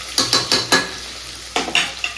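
Mutton curry masala sautéing in a pan, a few sharp stirring scrapes against the metal in quick succession, a pause, then another short burst of stirring over a faint sizzle.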